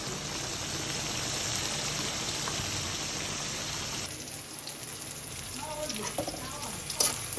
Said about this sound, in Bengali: পুঁটি মাছ বেজে নিচ্ছি আগে এখন এই যে পেঁয়াজটা সঙ্গে তেলে দিয়ে দিচ্ছি